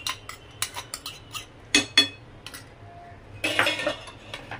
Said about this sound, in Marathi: त्यानंतर जे आपण जे काही ते ड्रायफ्रूट घेतलेले टाकूया।